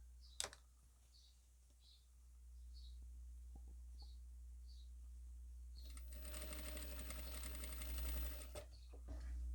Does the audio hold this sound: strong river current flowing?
no